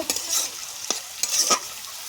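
Marinated chicken hitting fried onions in a hot pan for a desi chicken curry with cabbage, bursting into a sizzle with a few quick scraping stirs, close and fairly loud.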